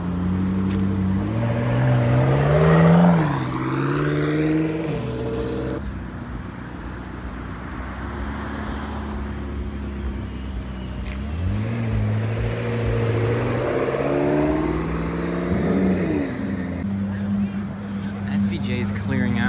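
A Lamborghini SVJ revving as it pulls away from a car meet, with loud rising and falling engine sweeps, another burst of revs later, and people talking over the traffic noise.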